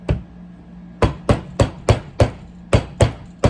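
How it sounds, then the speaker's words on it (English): A copper ring being hammered on a flat back ring mandrel, about ten sharp metallic strikes close by in a steady, even rhythm after an opening hit, with no talking. "just hammer it so I know that it fits perfectly tight."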